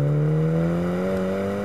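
A 2022 Mini Cooper JCW convertible engine hums steadily and rises slightly in pitch as the car pulls away, a close, smooth drone with no talk.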